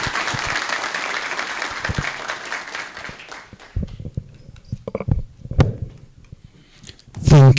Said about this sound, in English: Gentlemen, please let's appreciate Mr. David Mwangi with a round of applause.